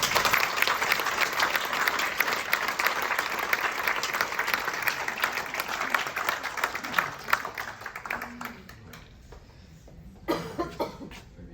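An audience applauds award winners at a stroke research award ceremony, a full, steady round of clapping that gradually thins out and trails into scattered claps and a few coughs.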